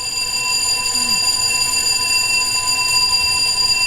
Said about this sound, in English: Sounds like we have a fire alarm